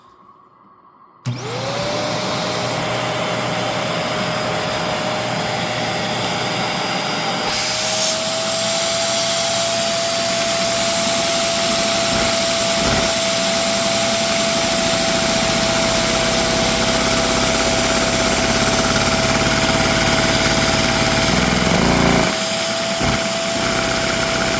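A small two-cylinder inline engine built from Lego spins up with a sudden start into a steady, loud high-pitched whine, its pitch climbing briefly then holding near top speed for a long stretch.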